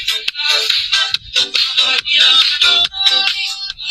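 Music blares from a speaker built into Bluetooth sunglasses connected to a cellphone: loud, bright, tinny electronic notes in quick repeating phrases, played alone without talk.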